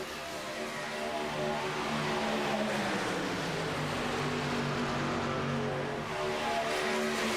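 Race car engines from a Talladega racing video game roar as a dense, continuous pack, their steady layered drone holding at the same loud level throughout with no talking.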